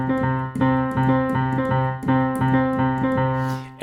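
Piano plays a repeating 3 against 4 polyrhythm, left hand in fours and right hand in threes, with clear evenly struck notes looping for a few seconds, close and alone.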